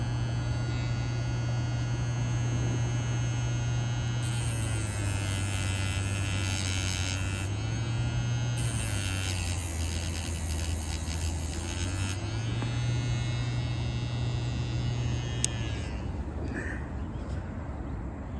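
Electric sharpener buzzing against a fishing hook beside a carp lake in spring, a steady motor hum with bright grinding bursts in two passes, close and fairly loud.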